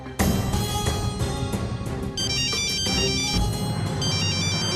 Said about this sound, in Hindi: ससुरा वीडियो का फोन है, उठाइए देखिए तो।